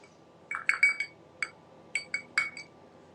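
Ice cube clinking against a glass of wine, a few bright, sharp ticks spaced irregularly, near and fairly quiet with no talking.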